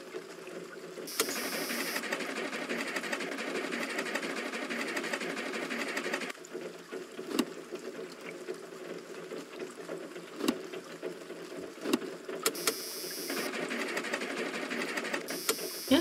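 A worn junkyard truck engine needing a cam gear cranks over on the starter in a long, steady mechanical whir, with brief pauses and clicks between attempts, fairly close and loud, no talk over it.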